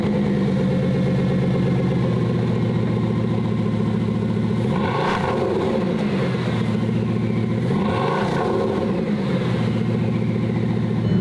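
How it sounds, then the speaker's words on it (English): A Bugatti Veyron's W16 engine idles with a deep, steady, loud rumble, swelling into two brief revs midway before settling back to a smooth idle, with no talking over it. "let me start it up, and you will listen to this beautiful W16 engine"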